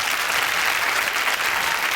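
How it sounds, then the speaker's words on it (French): A TV studio audience applauds Marcel Béliveau on a hidden-camera show, loud sustained clapping that fills the whole moment without letup. "celui qui va vous expliquer, c'est Marcel Béliveau, qu'on applaudit très fort"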